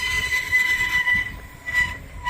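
Train brakes squeal in high, sustained tones above a rumbling rolling train, loud and close, with the squeal wavering and breaking off near the end.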